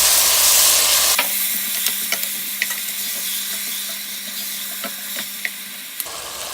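Onions, seasoning and tomatoes sizzling in a pot for tomato soup, a steady hiss broken by sharp clicks and taps of a spoon stirring against the pot, close and fairly loud, ending abruptly.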